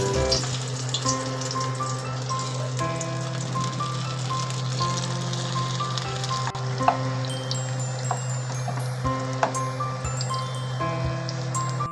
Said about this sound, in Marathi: आपलं हे लावलेलं मिश्रण ब्रेड आपण चण्याच्या पिठात घेऊन असं कढईत